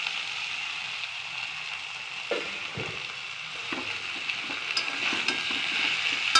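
Malabar spinach greens hit hot oil in a pan and fry with a steady, bright sizzle, broken by a few soft stirring bumps and scrapes as the leaves are moved around.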